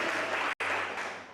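A church congregation claps together during a Spanish-language worship service, a steady dense wash of applause with a brief gap partway through before it resumes and slowly tapers.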